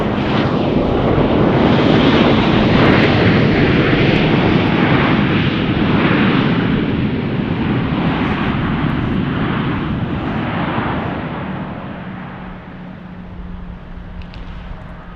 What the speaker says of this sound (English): That Gulfstream better get off the runway, man.